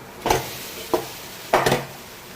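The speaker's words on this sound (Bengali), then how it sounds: "কারি পাতা দিয়ে একটু নেড়ে চেড়ে ভাতটা দিয়ে ভাতটা দিয়ে দিচ্ছি" Rice tossed with curry leaves in a hot frying pan: three distinct bursts of scraping and sizzling from a spatula, close by, separated by brief quieter gaps.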